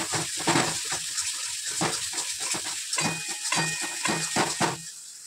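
Ground spices such as turmeric, cumin and chili powder sizzle while frying in a pan, a loud continuous hiss broken by rhythmic stirring scrapes, close and without talk.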